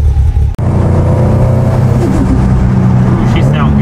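A 2019 Subaru STI built to 700 wheel horsepower pulls away with a loud, close engine drone that rises in pitch, while someone talks excitedly over it.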